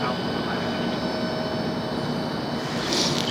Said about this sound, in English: I do believe we've got one about ready for takeoff.